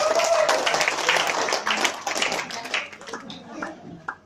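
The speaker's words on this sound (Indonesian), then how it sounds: "Oke, buat aplaus buat Bang Nanang dulu." An audience claps for speaker Bang Nanang at an Indonesian gathering: a burst of lively applause that thins into scattered claps and fades out, with a voice talking over the start.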